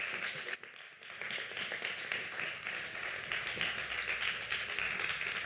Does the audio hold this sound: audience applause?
yes